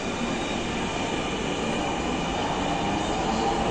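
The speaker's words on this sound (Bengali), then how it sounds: "মেট্রো রেলটি এখনই তার গন্তব্যের দিকে রওনা দিবে" A metro train pulls out of the station with a loud, steady rumble of wheels and carriages, its broadband roar holding level throughout, with no talk over it.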